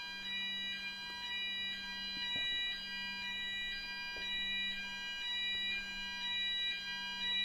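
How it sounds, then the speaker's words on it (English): An indoor fire alarm sounds during a test, giving a steady pulsing electronic beep that repeats at an even rhythm. It is moderately distant and continuous, with faint room noise and a low hum underneath. "That's the fire alarm."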